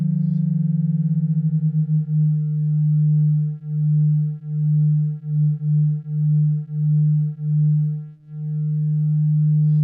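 Two detuned synthesizer oscillators give a steady electronic tone that drifts into a regular wobbling beat, pulsing about once per second, then smooths out again near the end.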